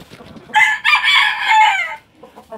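A rooster crows once nearby, loud and clear, a drawn-out call lasting about a second and a half, with soft clucking from chickens before and after it.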